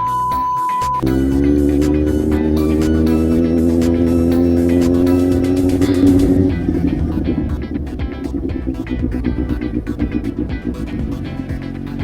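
A yellow car drives by at a Busan market, first as a steady engine drone, then as a rougher, fluttering rumble as it passes close by.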